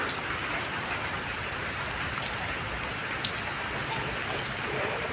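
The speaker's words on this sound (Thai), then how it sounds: "ตอนนี้ก็ฝน เริ่มตกมาอีกแล้วเนาะ" Heavy rain pours down steadily outdoors beside a vegetable garden, a dense continuous hiss of drops close by with occasional brighter splashes.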